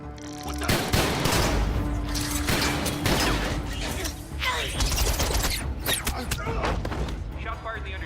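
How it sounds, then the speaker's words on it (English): Sound effects from a Transformers robot figure: rapid bursts of gunfire mixed with whirring, ratcheting mechanical noises, loud and dense throughout, with voices and music woven in. "Shots fired in the underdeck. Repeat, shots fired."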